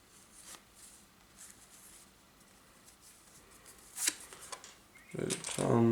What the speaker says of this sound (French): je vais aller me chercher une des 3 cartes usines